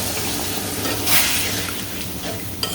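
Spices and bay leaves frying in a pan, a constant close sizzle with a brief brighter burst of spatter midway and a small clink near the end.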